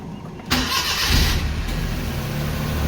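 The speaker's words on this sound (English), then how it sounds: "I'm gonna actually start the car so you can actually hear the car." A 2017 Suzuki Mehran VXR car engine warm-starts with a quick crank, then catches and settles into a steady, close idle, with a fan or AC kicking in shortly after.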